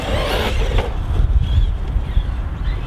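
A ready-to-run RC car drives off-road close by, its motor giving a continuous rough rumble and a thin whine, with gritty crunching from the wheels over the ground.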